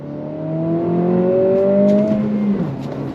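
A 2025 Acura Integra A-Spec with a six-speed manual revs hard and climbs in pitch as it accelerates, close and loud, with a brief high chirp from the tires.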